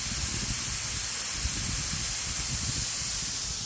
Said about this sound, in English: Open that little vent valve right there.